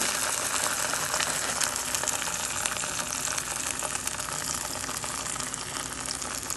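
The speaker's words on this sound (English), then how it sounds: "Get your tortilla nice and dipped and colored. Add it right over that hot pan." Continuous crackling sizzle of a sauce-dipped birria tortilla frying on a hot pan, a dense hissing spatter held at steady volume throughout.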